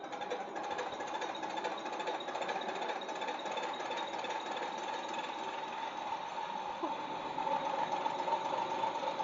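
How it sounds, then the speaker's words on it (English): A MINI12PSB diesel injection pump test bench runs with a steady, fast mechanical chatter and a continuous machine hum, holding an even level throughout with a slight rise near the end. "how to testing mechanical pumps on our MINI12PSB diesel injection pump test bench"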